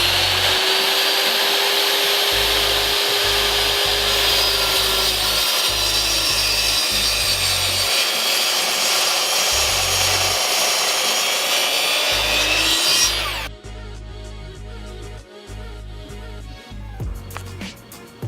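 A power saw rips through a 2x10 wooden board, a long, loud, steady whine with a bumpy low rumble that runs about thirteen seconds before cutting off to quieter clatter and handling noise.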